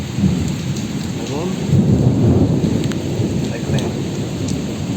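Steady heavy rain pours down with a deep roll of thunder rumbling through the middle, loud and close, with no voices.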